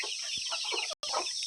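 Chickens cluck in quick, overlapping bursts close by, a busy flock of farm hens chattering continuously apart from a brief dropout in the middle.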